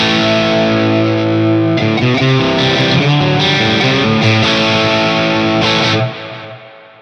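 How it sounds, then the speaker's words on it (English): An electric guitar played through a Hotone Ampero II Stage with a large plate reverb rings out in loud, distorted chords and notes, then the sound trails off into a reverb tail at the end. "Then I'll put a little bit of reverb on there."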